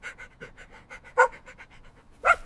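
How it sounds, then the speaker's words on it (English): A black dog pants in a steady quick rhythm close by, with a couple of louder breathy bursts among the short even breaths and no talk over it. "Shadow is a black dog."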